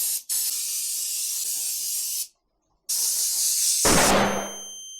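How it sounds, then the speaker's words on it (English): Brake cleaner sprays onto new brake discs in close, loud hissing bursts: a short blast, a longer spray, a pause, then another spray ending in a metallic clatter. "always spray them down with some brake cleaner before you install them"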